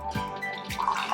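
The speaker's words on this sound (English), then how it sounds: "Let's pour the Free Wave, the non-alcoholic hazy IPA." Non-alcoholic hazy IPA beer poured from a can into a glass, a close liquid gurgle and splash with a couple of soft glugs over about a second, no talking.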